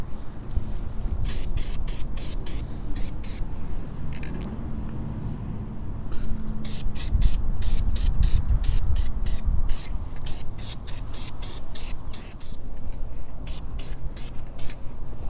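An aerosol can spray-paints a brake caliper from a Corolla XRS or Matrix in light coats, giving a series of short, loud hissing bursts with brief pauses, close to the listener.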